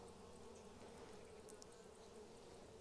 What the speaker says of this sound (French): La reine est ici.